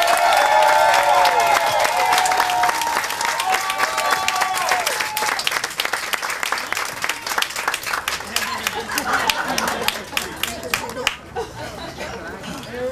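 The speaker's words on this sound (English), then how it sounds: "please give a magnificent round of applause to my loving mother, Martha Warren." Sustained applause from an audience at a groundbreaking ceremony honoring a speaker's mother: many hands clapping loudly and continuously, with crowd voices and a few cheers mixed in at first, then gradually tapering off.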